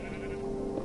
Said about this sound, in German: Dummes, dummes Schaf.